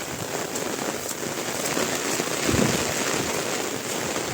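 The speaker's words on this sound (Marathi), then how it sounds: "पाऊस फुल दिसत असेल तुम्हाला किती चालू आहे जोराचा" Torrential rain falls on rice paddy fields at planting time, a continuous loud wash of drops that swells slightly midway, with no speech.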